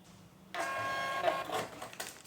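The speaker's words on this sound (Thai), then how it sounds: "ลูกค้าสแกนสั่งอาหารปริ้นออเดอร์อัตโนมัติไหม" A restaurant point-of-sale receipt printer starts up after a short quiet pause and prints an order from table eight. It gives a close, steady mechanical whirring buzz for nearly two seconds, and no one speaks.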